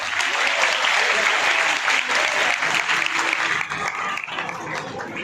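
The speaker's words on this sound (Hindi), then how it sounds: "जरा जोरदार ताली बजनी चाहिए" Loud, dense applause from an audience at a Bhagavat Katha closing ceremony in a Kali Mata temple in Moradabad, sustained for several seconds and easing slightly near the end, with some crowd murmur beneath.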